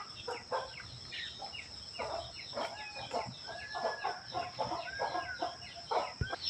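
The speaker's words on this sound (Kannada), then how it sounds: "ಇವಾಗಲೇ ಕೋಳ್ಗಳು ಇಲ್ಲಿ ಬಂದ್ವಲ್ಲ" Chickens clucking at a farmyard, several birds giving repeated short clucks and calls at mid distance over a steady background hum, no talk.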